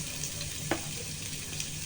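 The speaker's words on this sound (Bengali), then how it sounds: "তেলটা গরম হলে এর মধ্যে পেঁয়াজ কুচি, কাঁচামরিচ কুচি দিয়ে দেব।" Chopped onion and green chili sizzle steadily in hot oil, a soft, even frying hiss with one brief clink of a utensil partway through and no talking.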